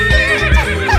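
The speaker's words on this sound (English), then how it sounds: "Horse." A cartoon horse gives a loud, close neigh that trembles through about a second, set among playful animal sounds for kids.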